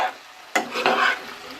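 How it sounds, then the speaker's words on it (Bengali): Water hits a pan of frying hot and spicy chilli chicken with a sudden loud hiss that bursts up and then settles into a bubbling sizzle. "গ্রেভির জন্য আমি জল দেব জলটা কীভাবে দিচ্ছি দেখো"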